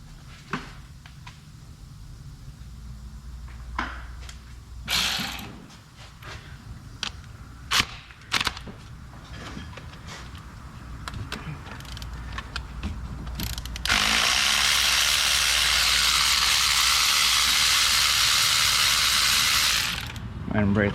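A ratchet with a 5/8 deep socket on a 6-inch extension clicks in short bursts while loosening a spark plug on a Ford Fiesta, close and fairly loud, followed by a long steady broadband hiss.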